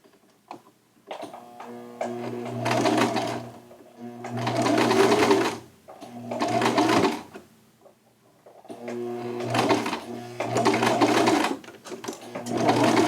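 A sewing machine stitching a shirt runs in several bursts of a few seconds each, its rapid whirring motor separated by short pauses.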